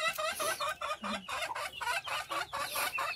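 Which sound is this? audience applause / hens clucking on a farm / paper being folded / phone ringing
hens clucking on a farm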